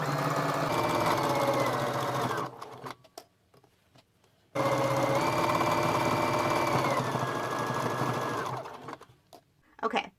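Sewing machine stitching a hat made from recycled T-shirts with a stretch or zigzag stitch, two steady whirring runs of several seconds each separated by a short pause with faint handling.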